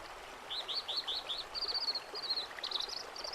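River stream flowing in a steady soft rush while small birds chirp and twitter in repeated quick bursts above it, moderately near, with no voices.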